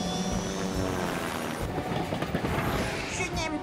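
Animated cartoon helicopter whirring with rotor noise as it lifts off in a children's firefighter cartoon, loud and continuous, mixed with music and a voice speaking.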